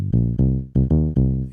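A Yamaha PSS-560 home keyboard plays a bass patch: five sustained, buzzy synth bass notes with sharp attacks, each decaying slightly before the next, loud and clean with no talking.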